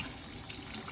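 Hot water runs steadily from a tap supplied by a Rinnai RXP tankless water heater, a continuous close rushing hiss with no pauses and no talk.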